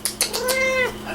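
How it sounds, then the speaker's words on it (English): A house cat gives a short meow, preceded by a couple of soft clicks, close to the microphone in a quiet indoor room. "Want to meow for them?"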